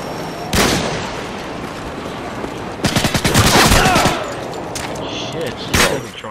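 Video-game gunfire comes as a loud, rapid automatic burst in the middle, framed by a few sharp single shots before and after over steady game noise, with voices talking at times.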